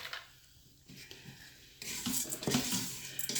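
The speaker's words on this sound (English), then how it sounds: "And gotta stir it a little bit. And let it fry a little bit." Chicken and rice fry in a pot, seasoned with sazón con azafrán, while a spoon stirs and scrapes. The scraping and clinking is quiet at first, then a louder sizzle and stirring run on.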